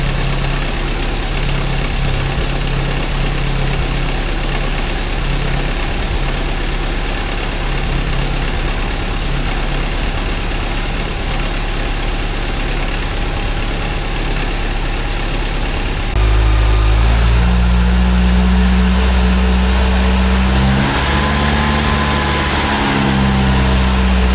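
A Saab 900 8-valve engine runs steadily at a loud, close idle, then revs up partway through and holds a higher, rougher note until the end, with no voices over it.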